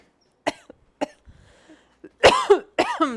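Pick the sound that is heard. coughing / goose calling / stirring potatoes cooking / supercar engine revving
coughing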